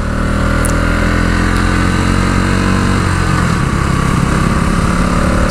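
A motorcycle engine runs steadily as it is ridden along a curvy mountain road near Rongtong, a loud, continuous buzzing drone with little change in pitch and no talk.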